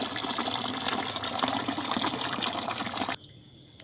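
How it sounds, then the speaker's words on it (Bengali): Cold water gushes over boiled noodles as they are rinsed at a picnic, a loud rushing pour that runs steadily for about three seconds before cutting off abruptly, leaving a few faint drips. "এখন আমরা ঠান্ডা পানি দিয়ে ধুয়ে নেব।"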